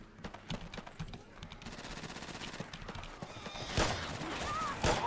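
Gunfire in Left 4 Dead 2: rapid automatic shots rattle steadily throughout and grow louder toward the end, mixed with game noise and brief voices.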